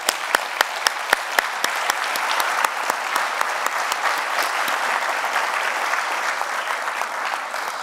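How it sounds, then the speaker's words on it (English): An audience at an energy innovation summit gives a round of applause, opening with a few sharp, distinct claps that quickly swell into a sustained, even roar of clapping filling the room. "Let's give them a round of applause"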